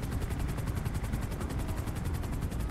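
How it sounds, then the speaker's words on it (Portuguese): A police helicopter in the video game GTA 5 beats steadily overhead, its rapid rotor chop loud and continuous throughout. "Helicóptero do Grael"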